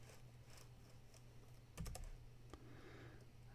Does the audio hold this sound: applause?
no